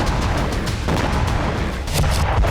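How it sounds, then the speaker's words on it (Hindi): Loud, dense crashing rumble with broadband bursts from a ballistic missile explosion at Hodeidah Port, Yemen, continuing throughout with a renewed surge near the end. "हूती की बैलिस्टिक मिसाइल गिरी, जिसके बाद जोरदार धमाका देखा गया"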